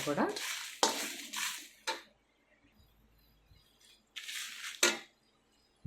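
Curry leaf powder ingredients, including dried red chillies, roast in a pan over medium flame, with bursts of scraping and stirring against the metal separated by a quiet pause and faint sizzle.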